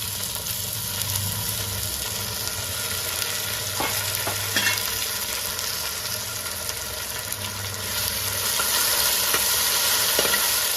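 Chopped onions fry in a pan for a Nellore-style fish curry, a constant close sizzle with occasional scraping stirs.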